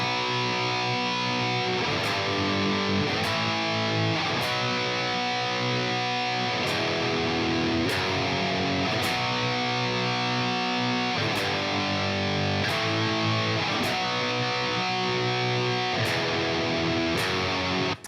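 Electric guitar plays distorted chorus chords in a continuous, loud strummed progression. Each chord rings out and the changes come at a steady pulse for about eighteen seconds, with no talking.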